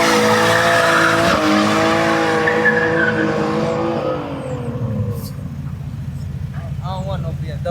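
Tires squeal and skid loudly over a revving car engine, fading toward the end as the squeal dies away and distant voices come through.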